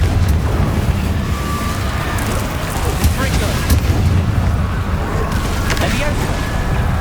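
Confringo blasting spells burst in rapid succession in the Hogwarts Legacy video game, dense booming explosions rumbling continuously with voices talking over the combat.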